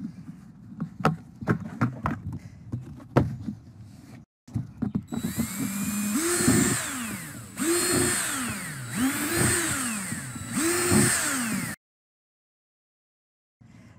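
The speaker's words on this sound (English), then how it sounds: "the first step is to drill holes for aeration and drainage" A power drill bores aeration and drainage holes in a plastic worm bin, giving several rising whines with bursts of grinding, preceded by scattered clicks and knocks and ending abruptly in silence.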